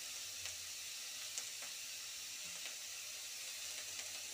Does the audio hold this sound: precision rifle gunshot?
no